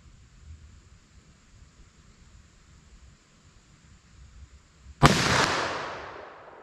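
A single loud handgun shot, fired from a .44 Magnum or 10mm pistol, cracks sharply after several seconds of quiet outdoor ambience and rings out with a long decaying echo.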